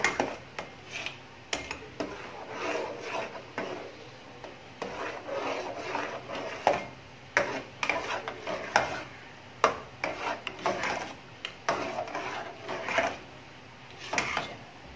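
Close spoon scraping and rubbing around a bowl as cream is mixed into a coffee trifle, rhythmic strokes with sharp clinks against the sides, steady and alone.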